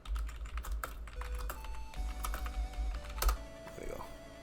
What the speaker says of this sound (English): Let's type in Blast.